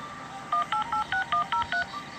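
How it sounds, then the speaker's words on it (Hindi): Seven quick touch-tone beeps as a number is dialed on a phone, evenly spaced and clear, over quiet background hiss. "अभिनव बेड से उठा और फोन पर एक नंबर डायल किया।"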